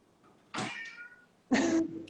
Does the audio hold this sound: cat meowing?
yes